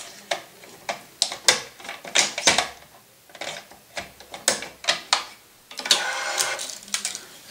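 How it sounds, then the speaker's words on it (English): A racquet stringing machine tensions a cross string on a racquet, producing a series of sharp mechanical clicks and ratcheting bursts in an uneven rhythm, ending with a longer whirring stretch, close and clear with no voices. "so now we're going to tension our second cross right here."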